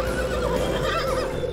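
A cartoon horse gives one loud, close, wavering whinny that fills the short moment, with no talking over it.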